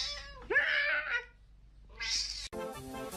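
A cat meows twice in clear, drawn-out calls, the second followed by an abrupt cut to a harmonic, musical sound.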